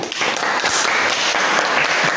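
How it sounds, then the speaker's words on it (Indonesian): Students in a classroom applaud after a group presentation, a brief dense patter of clapping that stays fairly even and close throughout. "tepuk tangan"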